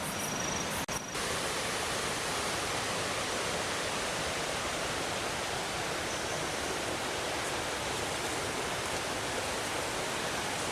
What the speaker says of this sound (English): I see water. It's fast moving.